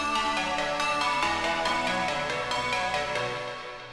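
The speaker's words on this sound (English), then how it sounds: "you can arpeggiate them and just" Bright synth chords ripple in quick arpeggiated notes, a busy repeating pattern of tones that fades slightly toward the end.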